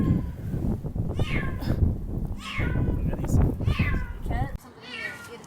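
A hurt cat trapped in a sewer meows repeatedly in plaintive, echoing cries, heard under and between people talking nearby.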